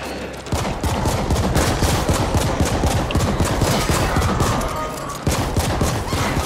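Rapid automatic gunfire in the cyberpunk video game The Ascent rattles almost nonstop in loud dense bursts, pausing briefly twice, with game effects mixed in.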